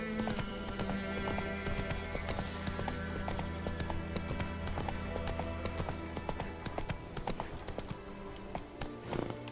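Horse hooves clip-clop steadily at a trot in The Witcher 3 while riding, with a game music bed underneath and occasional whinnies.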